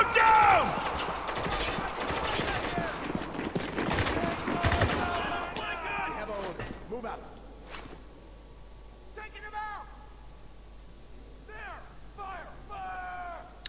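Shotgun gunfire in the video game Spec Ops: The Line, a dense run of loud, close blasts mixed with combat noise for the first few seconds, then fading into quieter background with voices and short tonal calls.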